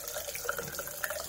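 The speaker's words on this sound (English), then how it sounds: "hot water is still running." Hot water running steadily from a tap during a cold-water fail-safe test of a thermostatic mixing valve, a continuous close hiss and splash with small drip-like accents.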